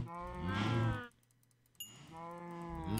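Cows in the Minecraft video game moo in two long, loud, close calls separated by a short pause, with no talking over them.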